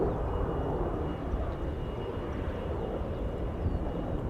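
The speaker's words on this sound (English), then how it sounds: "Off to Gothenburg, Embraer 190, KLM flight 1233." A KLM Embraer 190 jet, fourteen years old, departs Schiphol for Gothenburg, giving a steady broad engine roar that holds even and fairly loud at a distance throughout.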